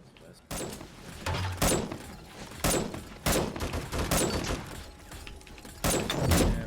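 Automated turrets fire at zombies in the video game 7 Days to Die, with sharp loud bursts at irregular intervals over a busy, noisy background, while a voice talks between the shots.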